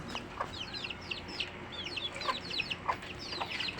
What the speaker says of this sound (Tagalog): Nindot yung manok ko.